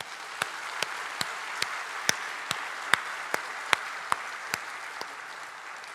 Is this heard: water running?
no